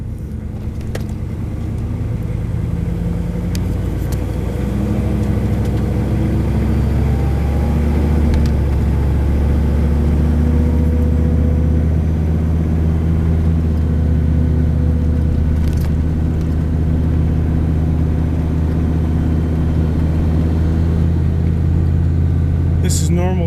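Truck with a 6.5 diesel engine driving, a steady loud low rumble and drone from inside the cab running throughout with no clear talk.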